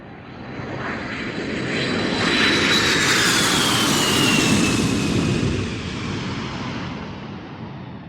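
A big jet airliner roars past while landing. Its broad engine rush swells to a loud peak with a high whine sweeping through it, then eases off. The sound is heard alone, with no voices.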